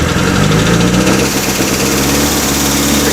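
A 1956 Standard 8 classic car engine runs loud and close, a steady rough idle with a slight throttle lift early on, then settling into an even mechanical thrum.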